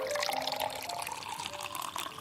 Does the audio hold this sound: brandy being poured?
yes